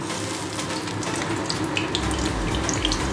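Whole cumin seeds hitting hot oil in a pan while cooking fish-head muri ghonto, a dense steady hiss and crackle throughout, loud and close with no talk.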